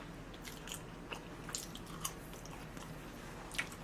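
Burger King french fries being eaten close to the mic, with soft crisp bites and chewing at an irregular pace against a quiet room.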